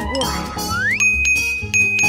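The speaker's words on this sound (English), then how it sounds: "We can use this bell." A bright cartoon bell rings in an animated scene: a rising tone settles into a sustained high ding with a shimmering tail, followed by a second strike, under lively background sound.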